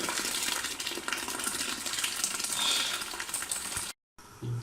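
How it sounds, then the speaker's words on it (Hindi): Boiled chickpeas and their cooking water poured into hot masala for Lahori chana, a loud, steady hissing sizzle and gush that cuts off abruptly near the end. "अब हम इसमें चने पानी समेत ऐड करने लगे हैं जो हमने कुकर में प्रेशर दिया।"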